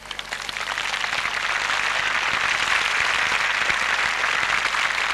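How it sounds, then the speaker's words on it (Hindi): Steady applause from a crowd, dense clapping that swells quickly and holds at a constant level throughout. "कृपया मिस्टर यामागुची का तालियों से स्वागत कीजिए।"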